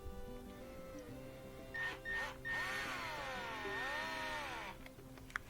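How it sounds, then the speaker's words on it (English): A power driver with a Torx T20 bit backs a screw out of the crossover fuel rail on a GMC Yukon or Chevy Tahoe: short whirring bursts, then a longer rising and falling whine, fairly quiet, ending in a small click. "Removing a T20 right here, Torx 20, from this crossover fuel rail"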